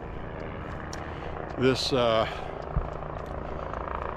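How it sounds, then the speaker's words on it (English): A Life Flight medical helicopter passes overhead during a night walk in Maine, giving a steady low rotor drone throughout. Someone speaks briefly over it, and a few faint vehicle and footstep sounds come and go. "We got a helicopter flying to the hospital. It's Life Flight"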